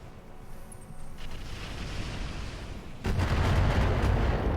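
Missiles strike in the BattleTech Roguetech video game. A dense, rumbling roar of explosions builds steadily and then jumps louder into a heavy barrage near the end. Nobody speaks.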